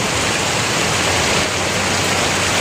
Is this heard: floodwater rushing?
yes